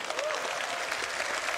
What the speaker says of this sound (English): can we get a round of applause for Tyler and Leah